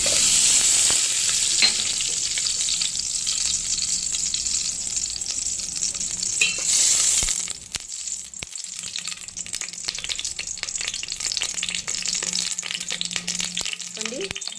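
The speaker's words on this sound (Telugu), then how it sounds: "ఇప్పుడు తిరగమాత వేస్తాను, చూడండి. ఇప్పుడు నెయ్యి వేస్తున్నాను." Ghee tempering sizzling in a pan, a loud close crackling fry at first that softens after a few seconds into quieter sizzling with scattered clicks and stirring knocks.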